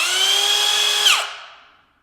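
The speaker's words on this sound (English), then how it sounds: "I got to route some of the wood out up there so that the box will actually fit in their level" A power router cutting into wood in a ceiling to fit a fan box gives a steady, loud, high-pitched whine that winds down and fades over about a second.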